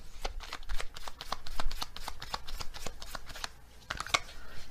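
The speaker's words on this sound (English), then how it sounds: "Okay, let's get another animal card." Animal oracle cards shuffled and drawn from a deck, a quick run of close, crisp riffling flicks with a brief flurry near the end.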